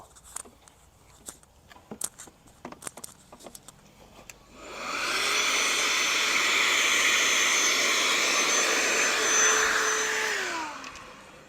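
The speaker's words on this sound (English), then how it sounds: "we're going to see if there's anything down in there we need to vacuum out" Vacuum cleaner sucking debris out of a space near brick steps: after a few quiet clicks and knocks, the motor starts and roars in a loud, steady whine, then winds down at the end.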